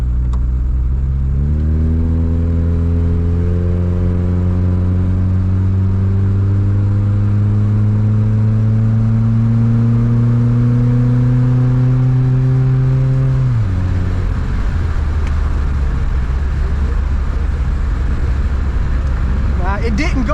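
A 1993 Honda Accord engine driving in D3 climbs steadily in pitch for about twelve seconds as it revs toward roughly 3,000 rpm, then drops abruptly and settles into a loud, close rumbling drone.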